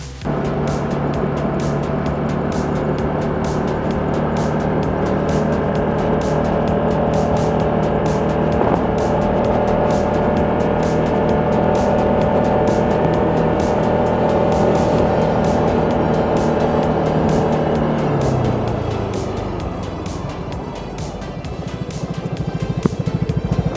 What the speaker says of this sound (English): This is where the Vespa small engine and lightweight really get tested.